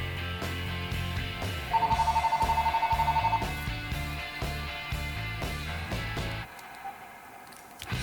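A telephone rings in a photography studio with a rapid trilling bell over steady background music. The music cuts out partway, leaving a quieter tail.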